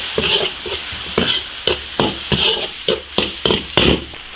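Onions and chili powder stir-fried in hot oil in an iron wok, a loud steady sizzle broken by about eight rhythmic scraping strokes of the spatula, close up with no talking.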